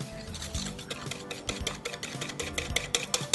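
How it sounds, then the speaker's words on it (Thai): Egg yolks and granulated sugar beaten together in a bowl for a white chocolate custard cake, giving a steady run of quick clinking strokes at close range with no voices. "เราใช้ไข่แดงนะครับทั้งหมด3ฟองใส่น้ำตาลทรายลงไปครับ แล้วก็ตีให้เข้ากัน"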